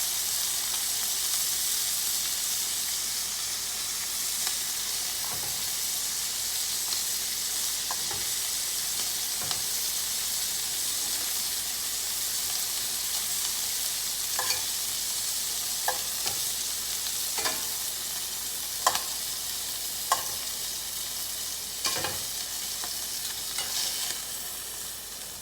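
Onions sauté in a pan with a steady soft sizzle, while a utensil stirs and scrapes in scattered light clicks throughout.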